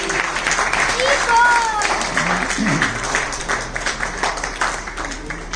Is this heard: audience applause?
yes